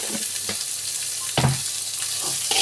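Onions sautéing with salt in a pan for mint chutney, giving a steady close sizzle with a few soft stirring scrapes and no voices.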